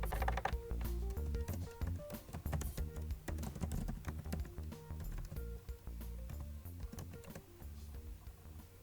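Keystrokes tapping out a slide title in PowerPoint on a computer keyboard, a steady run of light clicks under a continuous layer of background music.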